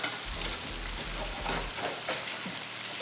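Small fish pieces fry in a pan with a constant crackling sizzle, close and steady, and a few scraping stirs and flips break through the hiss.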